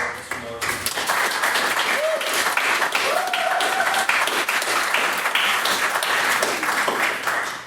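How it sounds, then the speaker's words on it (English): A debate audience claps steadily through a second round of applause, many hands close together at full loudness for several seconds with a few faint voices mixed in. "if we could once again get a second round of applause"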